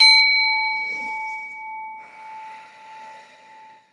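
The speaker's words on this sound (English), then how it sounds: "Let me just ring my bell." A single small bell rings once, ringing out clearly close by and slowly fading over several seconds, with a faint touch near the end.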